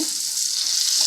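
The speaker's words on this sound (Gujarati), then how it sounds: "તેલ ગરમ કરી અને ચટણી ને થોડોક મસાલો રાખી અને આ રીતનું ઉપરથી ફોડીને મસ્ત થઈ જાય" Chutney and spices tempered in hot oil sizzle loudly and steadily, a bright close crackling fry with no voices.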